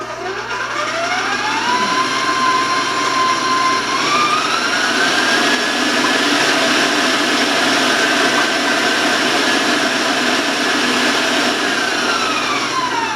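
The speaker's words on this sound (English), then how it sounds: "I'm going to warn you about my mixer whenever I turn it on because it might seem a little too loud for you." Electric stand mixer running at top speed, beating eggs for lemon cookie dough, giving a loud, steady motor whine and roar whose pitch glides upward as it speeds up and then holds, without any talk.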